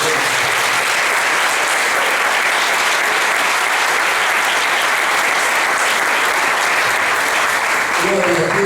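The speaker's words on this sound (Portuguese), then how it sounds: "Dê um aplauso." Loud, sustained applause from a church congregation, a dense and even roar of clapping that holds for several seconds, with a voice briefly heard at the end.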